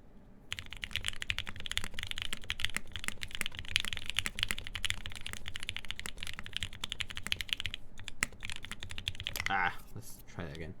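A Geonworks F1-8X mechanical keyboard with lubed Gateron Ink switches, 62-gram springs and Hammerworks CRP keycaps is typed on quickly and continuously up close, a dense run of crisp clacks with a few brief pauses.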